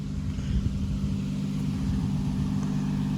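An Infiniti G35 sitting on Raceland coilovers drives off with a low, steady engine rumble and road drone, heard moderately close with no voices.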